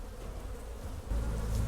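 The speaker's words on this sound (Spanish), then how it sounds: "Mientras uno no molesta a las abejas. No pasa nada." Bees buzz steadily around a panela sugarcane mill in Colombia, a continuous droning hum that swells a little louder partway through, with no voices.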